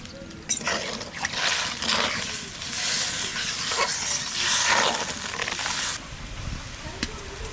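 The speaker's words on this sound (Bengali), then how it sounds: "জলটা একটু ভালো করে ফুটিয়ে নিলাম।" Water heats in a cooking pot for a fish curry with hilsa and green banana, giving a steady loud hiss and bubbling rush that cuts off near the end.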